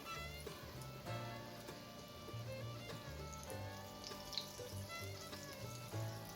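Chicken wing lollipops sizzle and bubble in hot oil over a medium-low flame, a steady close crackle with a few louder spits and no voices.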